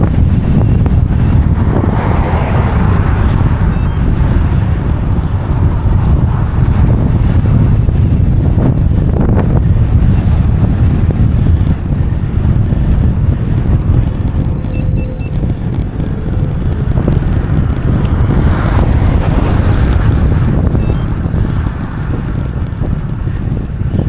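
Strong wind roars steadily into the microphone while cycling into a headwind on a Gran Fondo time-trial course on the Isle of Man, a constant loud buffeting rush with no voices.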